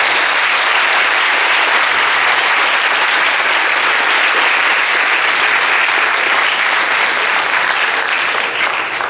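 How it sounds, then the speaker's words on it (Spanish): A conference audience at a forum in Culiacán gives loud, steady applause to welcome a speaker, sustained for the whole stretch with no talk over it. "Le damos la bienvenida con un fuerte aplauso."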